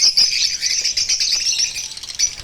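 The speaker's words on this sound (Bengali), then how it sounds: "আজ দেখুন, খুব কাছ থেকেই কিন্তু আমি দেখিয়ে দিচ্ছি সব পাখিগুলোকে।" A close, loud, continuous chatter of many small birds chirping inside an aviary colony, with quick overlapping tweets and occasional light wing flutters.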